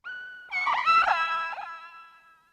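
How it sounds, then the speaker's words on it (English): A generic creature call made for an open-world exploration video game: a single tonal, moaning wail that rises, wavers, and fades out, heard clean and alone. "I initially just created a bunch of these generic creature calls that sound like this."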